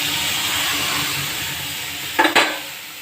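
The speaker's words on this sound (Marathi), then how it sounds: "आणि आता मी यामध्ये वरण घालते" Dal is added to a cooking pot and stirred, with a soft sizzle and hiss running under it and two short clattering scrapes against the pot near the end.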